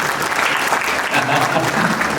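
An audience claps for the girls at a Himachal event: loud, dense applause filling the whole moment, with voices faintly mixed underneath.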